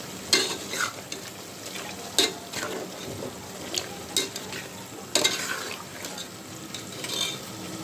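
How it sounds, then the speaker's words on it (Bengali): Meat is stir-fried in a pot for biryani, with a continuous close sizzle and repeated scraping, clattering stirs of a spoon against the pan. "মাংসটা কষানো হয়ে গেছে"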